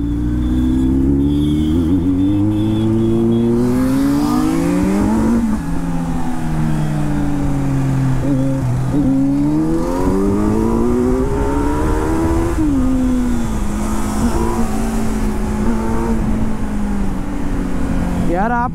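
A Kawasaki Z900 and a Honda CBR 650R superbike street racing produce a loud, close engine drone that climbs in pitch, drops at each gear change and climbs again, with wind rushing underneath.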